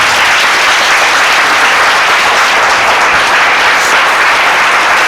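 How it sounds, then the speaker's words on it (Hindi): A church congregation at a Sunday meeting applauds loudly and steadily, a dense, unbroken wash of many hands clapping for several seconds with no voices rising above it. "आपकी तालियां बता सकती हैं आपको कितनी समझ आई है।"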